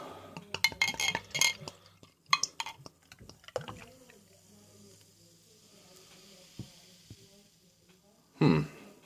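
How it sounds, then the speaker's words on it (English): A twist-off Anheuser-Busch beer bottle is cracked open and poured: clinks and a crack early on, then a long fizzing pour and a short burst of foam near the end, with brief talk at the start. "So I'm going to crack it open, give it a pour, see what we got."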